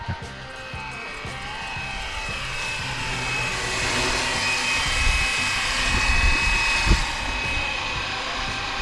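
A Fly Wing BO 105 GPS-stabilized RC helicopter flies in sport mode, giving a continuous whirring rotor and motor whine that holds steady and grows slightly louder, with a brief thump near the end.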